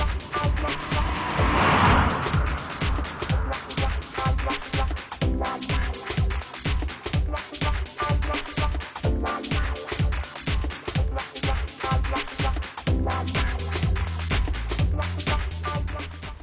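A Renault Clio on original worn shock absorbers drives over a badly damaged road, its engine droning steadily while regular thumps and jolts from the rough surface repeat throughout.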